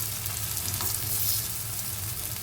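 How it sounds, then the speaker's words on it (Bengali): Onions fry in oil in a pan for a Bengali fish curry, a continuous close hiss and crackle with occasional stirring, steady and even with no talk. "ফাইনালি দেখো পেঁয়াজটা এখন ভাজা হয়ে গেছে।"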